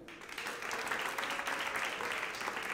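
An audience applauds with dense, steady clapping that carries on without a break in a large gathering.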